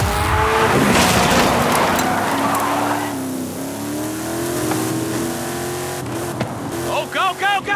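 Trophy truck racing in the video game Forza Horizon 5, with a loud revving engine whose pitch climbs and falls through gear changes, plus tire squeal, while people talk over it.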